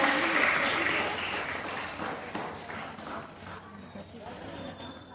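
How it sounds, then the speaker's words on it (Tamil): A crowd claps steadily for a student speaker at a school Independence Day event, a dense patter of applause that is loudest at first and gradually tapers off, with some voices mixed in. "நம் மாணவிக்கு மீண்டும் ஒரு முறை பலத்த கைத்தட்டு"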